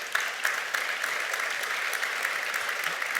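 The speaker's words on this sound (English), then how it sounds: "You can hear from the applause" Steady applause from a crowd, a dense patter of clapping hands that holds at an even level throughout.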